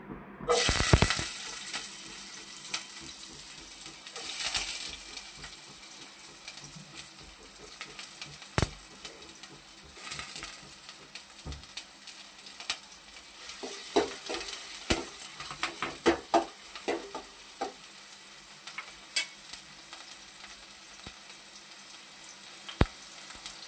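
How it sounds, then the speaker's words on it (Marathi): Finely chopped garlic and half an onion hit hot oil for a tempering, giving a steady close sizzle with occasional stirring scrapes and clinks, continuous and alone with no talk. "ही लसूण आहे आणि हा अर्धा कांदा आहे बारीक कापलेला, तो घालते फोडणीला."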